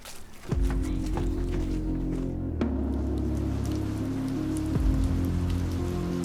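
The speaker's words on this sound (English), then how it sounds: "there was a big storm. The rain got harder." Heavy storm rain pours down in a dense, continuous wash, with low sustained tones beneath and a few sharp clicks or knocks breaking through.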